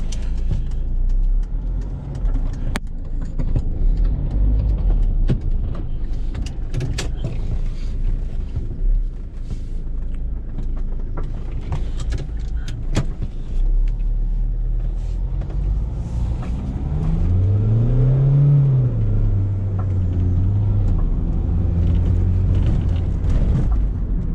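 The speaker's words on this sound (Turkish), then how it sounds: "Manevra kabiliyetini şuradan bir U dönüşü yaparak bir deneyelim bakalım." A red Jeep 4x4 engine rumbling steadily with wind buffeting the microphone, rising into a revving whine near the end as it makes a U-turn.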